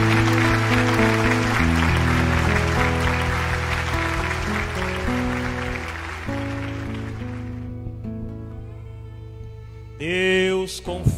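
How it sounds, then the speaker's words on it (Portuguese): A congregation applauds at a church wedding ceremony, dense clapping heard alongside sustained organ or music chords, fading out partway through before a brief tonal sound near the end. "Uma salva de palmas."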